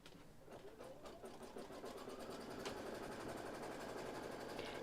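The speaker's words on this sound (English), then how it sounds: "So we're stitching out that stabilizer line." An embroidery machine stitches a stabilizer line for a bag project, giving a rapid, even mechanical whir with dense repeating needle taps, close and steady but quiet, with no talking.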